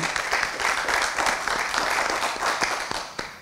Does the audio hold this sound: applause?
yes